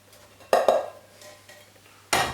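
A spoon scrapes and clinks against a bowl while red fruit purée is stirred with sugar, three short bursts of stirring contact with quiet pauses between them.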